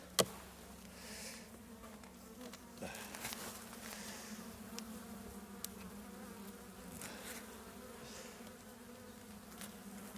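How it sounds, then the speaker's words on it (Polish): Honeybees buzz continuously around an open hive during a spring inspection, a steady close drone with occasional clicks and knocks of handling frames, no speech over it. "Taką pszczołę mamy."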